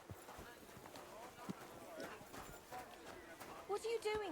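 Horse hooves clopping in Kingdom Come: Deliverance II, a steady run of soft clip-clop beats under game music and a voice talking throughout, with a brief rising tonal sound near the end.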